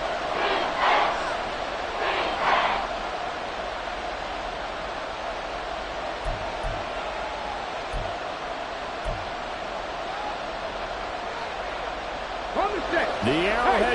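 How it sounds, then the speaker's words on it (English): Stadium crowd at Arrowhead roaring in the Madden 24 football video game during a Texans drive, a steady, broad roar that swells near the start and end, with a commentator talking over it. "The Arrowhead crowd in full roar"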